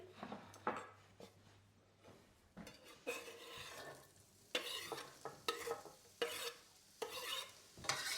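Onions for a risotto frying and being stirred in a pan, a quiet sizzle under repeated scraping and clattering strokes of a utensil against the pan.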